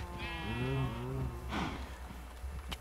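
A Minecraft sheep bleats once in a wavering, nasal baa, close and clear, followed by a short rustling shuffle and a faint click at the end.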